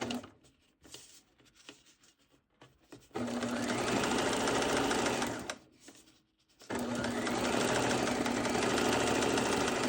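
A sewing machine back stitches the shoulder seams of a baby boy's burial outfit, running in two long continuous bursts with a short stop between them and quieter handling at the start.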